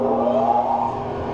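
A large 36x144 metal lathe starts up, its motor humming with a steady mechanical whir that rises briefly and then settles, close and moderately loud with no speech.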